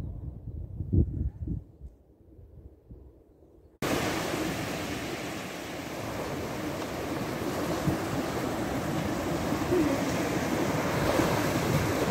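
Sea waves wash along the coast near L'Estartit, a broad, continuous rushing surf that starts abruptly after a short, quieter stretch and holds loud and steady to the end.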